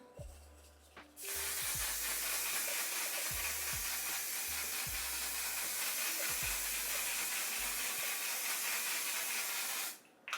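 A bottle of One/Size On 'Til Dawn setting spray is misted onto a face, giving one long, steady, close hiss of about nine seconds with faint pumping clicks underneath.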